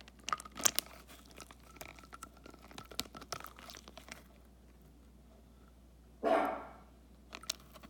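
A puppy dog gives one short, sharp bark near the start, then a louder burst follows later, with crinkling and handling noises from a slime toy unboxing around it and no talking.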